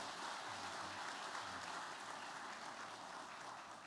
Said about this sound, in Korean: 우리 박수 한번 쳐드리도록 하겠습니다